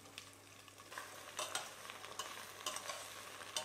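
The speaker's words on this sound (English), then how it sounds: "Now we can add all of our heads and skins in." Prawn heads and skins go into a frying pan already holding tomato and vegetables, giving a soft, steady sizzle with a few brighter bursts of stirring and scraping, fairly quiet throughout.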